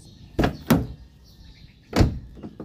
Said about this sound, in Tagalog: Tapos medyo hirap nang buksan yung pinto,